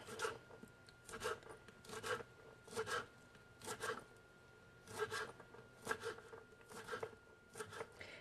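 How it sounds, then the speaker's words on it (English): Fresh herbs being cut up on a board for a vegan ricotta filling, giving a steady run of about ten soft rasping knife strokes, close and evenly spaced, with no voices. "I am just going to cut some of this up and throw it in with my ricotta"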